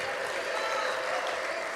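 Church congregation applauding, a dense, continuous wash of clapping from many hands filling the room at steady loudness.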